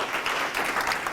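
An audience at a lunch-and-learn presentation claps together, producing dense, steady applause throughout a short burst.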